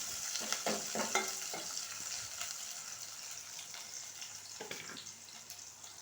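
Onions fry in a pan with a bay leaf, giving a continuous soft sizzle and hiss with occasional light stirring clatter, fairly quiet and close, with no talking.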